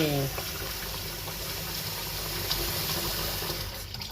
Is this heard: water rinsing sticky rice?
yes